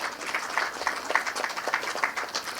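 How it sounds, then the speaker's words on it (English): Applause at an investiture ceremony, a sustained crowd of hands clapping in a dense, fairly loud rhythmic wash across the whole stretch. "Let's give them all a round of applause."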